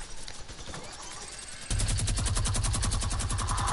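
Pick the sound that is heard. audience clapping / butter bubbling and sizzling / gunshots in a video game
gunshots in a video game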